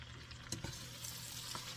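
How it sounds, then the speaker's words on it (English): Brown sugar and butter simmering in a pot on the stove for date-nut balls give off a soft, steady sizzle and bubbling, faint and close, with a couple of light stirring knocks. "after I get all of this simmering on the stove and get it down to a liquid state"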